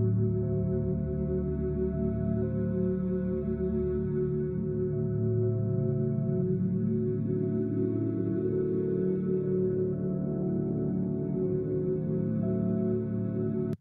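Lake buoy sensor data turned into music with virtual instruments: a dense, steady bed of low sustained synthetic tones with echo and reverb, droning continuously at an even level with no voices.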